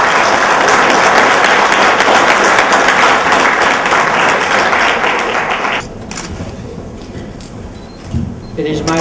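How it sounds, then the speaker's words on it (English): Loud audience applause at a Skal International East Thailand relaunch event in Pattaya, dense continuous clapping for about six seconds that then drops off into scattered claps and quieter room noise. "A round of applause to Tony for taking the mantle."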